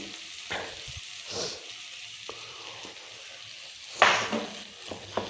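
Green chillies fry in hot oil for a pickle, giving a steady sizzle with a few stirring scrapes and clinks. A louder burst of crackling comes near the end. No one speaks.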